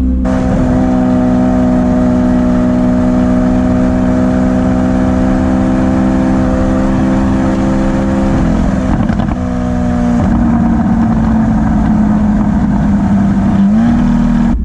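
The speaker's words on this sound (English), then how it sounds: "You can hear the exhaust valve being open" Lamborghini Aventador S Roadster with its exhaust valve open, a loud sustained V12 rumble and rev that holds steady, dips briefly, then surges again under an overpass, with no talking.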